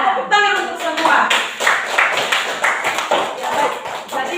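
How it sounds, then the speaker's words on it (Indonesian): A classroom of students claps together in a brisk, fairly steady rhythm, dozens of quick hand strikes sounding close and lively for several seconds. "tepuk tangan untuk semua"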